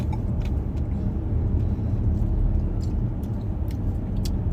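Steady, continuous rumble of road traffic near a service road, with cars and heavier vehicles blending into one dense, fairly loud drone and no pauses.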